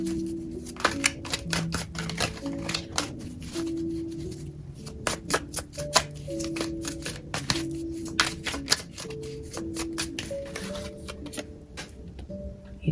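Tarot cards being shuffled and drawn, with a fast run of crisp riffling flicks and soft card slaps close by, some pauses between bursts, no talking.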